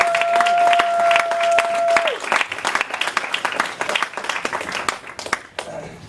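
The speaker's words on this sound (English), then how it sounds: "So big round of applause for Brain Bing." An audience at an improv comedy show applauds loudly for a performer, with dense continuous clapping and some crowd noise. A steady tone fades out early on, and the clapping thins toward the end.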